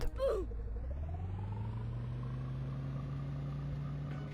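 A car engine in Roblox Bloxburg revs up and settles into a steady hum, with a synthetic, game-like tone and no talking.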